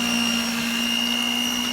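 An electric hand mixer with a single beater whirs steadily while whisking dandelion blossom butter, a constant, loud motor drone with a high tonal whine and no pauses.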